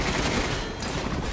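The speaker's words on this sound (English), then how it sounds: "when you hold down the LT button, it fires the cannon" Heavy cannon fire from a mounted weapon in the Resident Evil Village video game, a dense, continuous burst of booming blasts filling the whole moment at close range.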